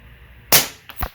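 .25 Avenger air rifle firing an H&N 28 grain slug, one sharp close crack followed a moment later by a fainter, duller impact sound downrange.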